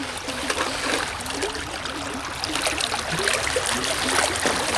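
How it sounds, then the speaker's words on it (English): Water and scooped gravel wash steadily through a gold prospecting sluice box, a continuous close rushing and trickling with small gritty knocks and gurgles throughout, no voices. "I'm putting it in this sluice box here. Let it feed through."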